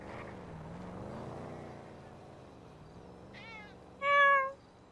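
Cat in a video game gives a soft meow and then a louder, clear harmonic meow near the end, close by, over a low engine-like hum with brief faint voice earlier.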